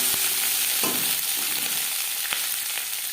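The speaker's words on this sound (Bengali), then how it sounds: "সরষের তেল গরম করে নিয়েছি, এবার দিয়ে দেব পেঁয়াজ কলি।" Chopped onion stalks fry in hot mustard oil, a bright steady sizzle with a few sharp crackles and spatula taps over the short stretch.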